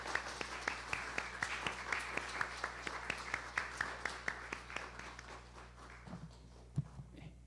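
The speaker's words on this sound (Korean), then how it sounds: "박수해 주시기 바랍니다" Applause from a church congregation at a Sunday worship service, heard as a steady patter of claps with regular sharp peaks, fading near the end with a few scattered claps.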